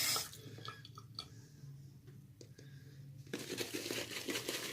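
Tap water runs and splashes as a shaving brush is wetted at a sink, with a few clinks and wet handling noises before the stream gets louder near the end.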